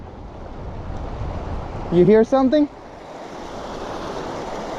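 Water splashes and rushes steadily close by around a Newport NT600 electric outboard, with no audible motor. A person briefly speaks partway through.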